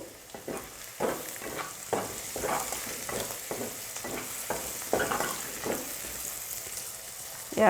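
Onions and tomatoes fry with turmeric in a pan for an Assamese fish curry: a soft continuous sizzle broken by regular stirring scrapes about once a second, close and moderately loud, with no voices.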